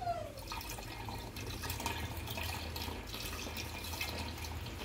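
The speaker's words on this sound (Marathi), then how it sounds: "हे राहिलेला चिक मी आता असंच गाळून घेते." Wheat starch liquid is strained into a container, a soft steady trickle and drip of liquid with light stirring, close and quiet with no speech.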